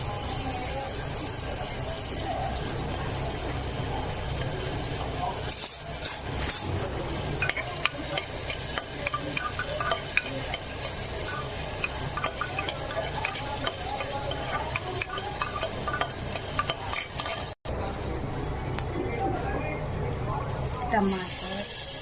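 Onion frying in a small amount of hot oil sizzles loudly and continuously while a utensil stirs and scrapes it around the pan, with a brief break in the sound partway through and a person talking over it.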